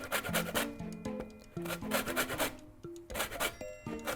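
An orange is rubbed against a small hand grater to take off the zest, producing quick, close, scratchy rasping strokes in a rhythmic series with brief pauses between them.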